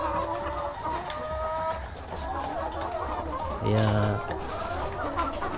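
Layer hens cluck and murmur inside a poultry house, a steady busy flock chatter running throughout with a brief louder burst near the end, while a person speaks over it.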